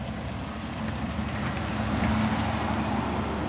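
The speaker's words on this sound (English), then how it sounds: "Here comes the truck again, Della." A truck passes along a road, a steady engine rumble and broad tyre roar that swells slightly and holds loud and close for several seconds, with no talk over it.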